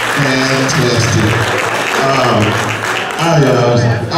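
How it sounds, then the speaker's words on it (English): A church audience at a Black History program breaks into a steady round of applause, dense and close, with a voice speaking over the clapping. "just give me just one more round of applause"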